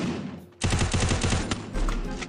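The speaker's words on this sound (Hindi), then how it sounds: "ग्रेनेड कौन मार रहा है ये?" In a Free Fire game match, a loud blast bursts in suddenly and is followed by rapid rattling gunfire-like bursts, continuing dense and close to the end.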